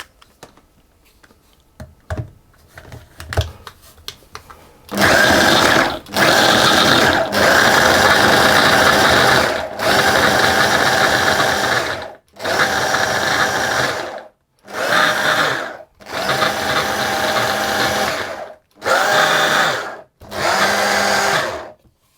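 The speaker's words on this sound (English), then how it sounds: "I'm going to process that, or pulse it, until it turns into a fine breadcrumb-like texture" Food processor pulsing butter into flour for breadcrumb texture, a series of loud bursts of whirring motor noise separated by short silences, starting after a few faint clicks and handling sounds.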